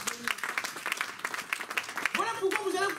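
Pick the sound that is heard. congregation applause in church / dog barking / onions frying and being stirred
congregation applause in church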